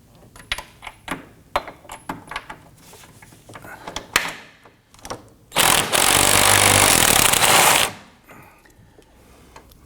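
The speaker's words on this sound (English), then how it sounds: "We're going to use an extension, swivel, and our 18mm socket on that bolt head and loosen that." A mechanic loosens a rear control arm bolt on a 2015-2024 Nissan Murano using an extension, swivel and 18mm socket. Irregular metallic clicks and clanks come first, then a loud, sustained rushing burst lasting about two seconds before it goes quiet.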